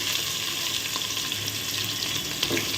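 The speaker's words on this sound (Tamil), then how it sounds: "இந்த மாதிரி ஸ்டேஜில் வந்து நம்ம வந்து ஆனியன் போடுவோம்" Onions frying in hot oil for vegetable biryani, a dense, continuous crackling sizzle at close range with no pauses.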